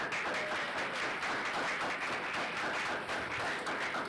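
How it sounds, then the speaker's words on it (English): An audience at a college board meeting applauds the board. The crowd clapping is fairly faint and even, with a steady patter running throughout. "give our board a round of applause"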